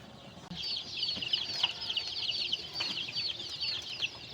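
Joper chickens in a troubled coop, a flock keeping up a steady stream of high, overlapping clucks and chirps, close and moderately loud and continuous after a quiet start, with no speech.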